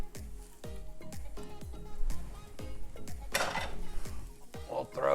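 Beef, vegetables and diced tomatoes drop into a cooking pot for low-carb chili, giving a run of repeated near clunks, scrapes and stirring clatter with some sizzle and a brief splashy burst.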